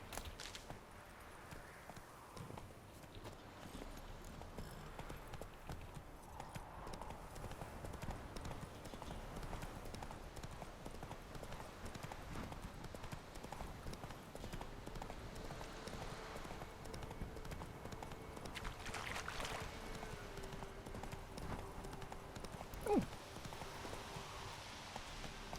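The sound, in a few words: hoofbeats of the horse Roach in video game The Witcher 3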